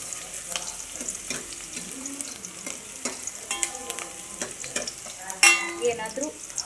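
Spices fry lightly in hot oil for Bangada mackerel fish sambar, giving a steady close sizzle broken by spatula scrapes and one louder metallic clatter near the end.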